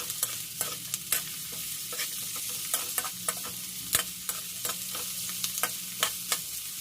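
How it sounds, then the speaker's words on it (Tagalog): Sweet and sour tambakol tuna fries in a pan, a steady close sizzle punctuated by frequent sharp clinks and scrapes of a utensil stirring at an irregular pace, no voices. "Halo-halo lang natin"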